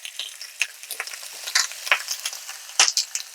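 Thick strip steaks frying in a pan give a steady crackling sizzle with irregular pops and spits throughout, close and fairly loud with no talking.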